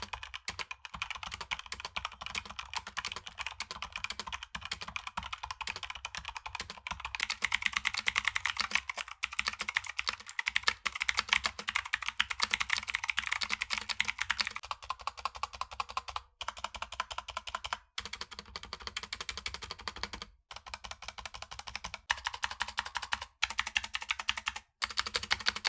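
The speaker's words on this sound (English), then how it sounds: "So as you heard, those stabs really bring a lot of rattle to the table." Close, continuous typing on a Razer keyboard whose stabilizers rattle, the dense clacking of keys running steadily with a few short pauses.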